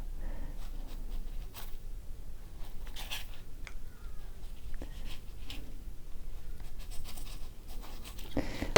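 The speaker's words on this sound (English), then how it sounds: "I'm just cutting off all the excess." A knife trims excess fondant from a cake separator with soft, scratchy slicing and light scraping over several seconds. The strokes are faint and close.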